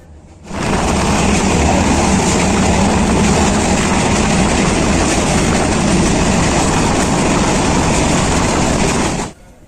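A train roars loudly and steadily from inside a carriage, a continuous rumbling clatter that starts abruptly and cuts off just as suddenly, with no voices.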